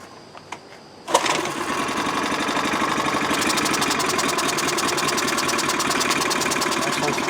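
A yard-sale 4-cycle Craftsman backpack leaf blower with a replacement carburetor starts after a few faint clicks and runs steadily at close range, its engine drone continuing without a break and no talk over it.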